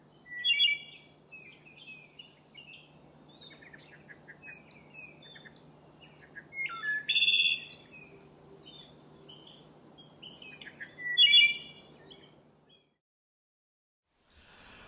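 A wood thrush sings clear, flutey phrases that repeat at intervals over a quiet outdoor background with a faint steady hum, then falls silent near the end.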